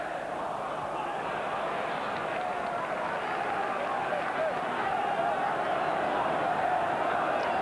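A large football crowd at Roker Park, Sunderland v Middlesbrough in 1991-92, roars in a continuous broad wash of cheering and noise heard from a distance, with some talking over it.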